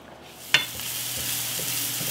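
Mushrooms, onions and celery sizzle softly and steadily in a pan, with one sharp utensil tap near the start and faint stirring scrapes.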